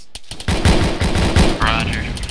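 Rapid automatic gunfire bursts crackle loudly in an ARMA 3 military firefight, with sustained volleys and overlapping shots filling the whole moment, a voice briefly shouting amid the shooting.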